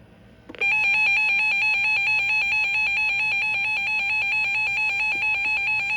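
Warning siren test on a Reecom R-1630 weather radio: a loud, steady electronic alert tone with a bright harmonic buzz sounds continuously at close range after a brief click.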